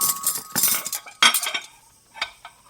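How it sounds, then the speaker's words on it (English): Cutlery and dishes clink and scrape at a dinner table loaded with food and wine jugs, a meal scene in an audio drama: a dense run of close metallic taps and scrapes, then sparser clinks trailing off. "As Richard shoveled food into his mouth"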